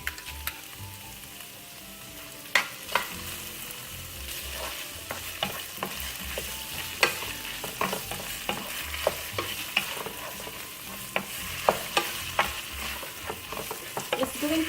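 Laing sautés with Barrio Fiesta shrimp paste in a pan, giving a constant close sizzle punctuated by frequent sharp scrapes and taps of a stirring utensil.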